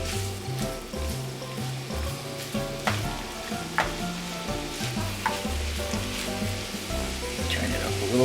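Ground beef sizzles and crackles steadily as it browns in a pan for sloppy joes, with occasional scraping from stirring and a low hum underneath.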